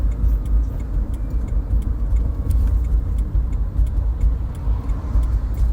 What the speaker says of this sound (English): This other car, it's quite a loud car.